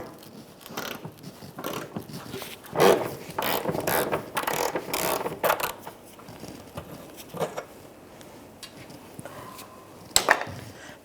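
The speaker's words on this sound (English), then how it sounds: "You have a 1/2 inch or a 13 millimeter socket or wrench, and let's try to break off the old nut." A ratchet socket wrench working the strap nut on a 1997-2006 Jeep Wrangler fuel tank, close rapid clicking in repeated bursts between pauses, with clanks and metallic knocks as the nut is worked loose.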